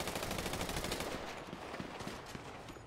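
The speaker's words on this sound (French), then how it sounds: "Ah ouais, ça tire vraiment sur n'importe quoi." Rapid automatic gunfire from an unlocked weapon in GTA 5, a fast continuous stream of shots for about three seconds, fairly faint and steady.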